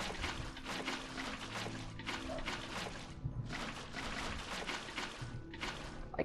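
Water poured into a 6x6 obsidian area in a block-building video game, a steady rushing pour that runs continuously and briefly drops away twice, over faint background music.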